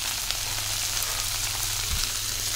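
Chopped onions and two small diced tomatoes sizzle steadily in a frying pan as they are mixed in for a soybean biryani, a soft continuous crackle with no voices.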